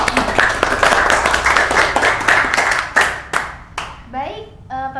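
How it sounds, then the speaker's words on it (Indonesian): Audience of school students breaking into lively hand clapping at a podcast recording, dense and close for about four seconds, then thinning to scattered claps as a voice starts speaking. "Ya, tepuk tangan dulu dong."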